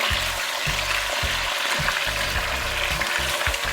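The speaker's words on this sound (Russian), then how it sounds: "Вот так вот берем, переворачиваем наши ребрышки." Lamb ribs sizzle and crackle in hot fat inside a kazan, a steady bright hiss with low thumps and scrapes as the pieces are turned, close and continuous with no talking.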